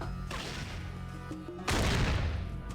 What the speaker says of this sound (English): Whoa, that's a really loud gun.